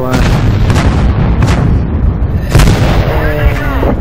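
Loud, close booms from an SU-85i tank destroyer's gun in World of Tanks, with two or three heavy blasts amid rumbling battle noise and a voice talking over it.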